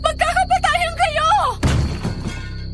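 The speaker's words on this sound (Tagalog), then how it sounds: "isang malakas na lagabog ang yumanig sa buong kubo mula sa itaas" A thatched nipa roof on a small hut collapses with a sudden loud crash and rattling debris, right after a voice cries out in strained, wavering tones.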